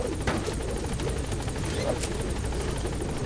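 Pequod, the helicopter in Metal Gear Solid 5, arrives over a landing zone with a loud, steady rotor roar and whine lasting the whole time, and a voice is partly heard beneath it.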